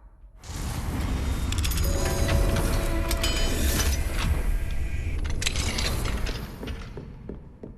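Alohomora unlocking spell cast in the video game Hogwarts Legacy: a loud, sustained grinding and creaking of a mechanism that runs for several seconds, with rattling clanks and a rumbling low end, then tails off.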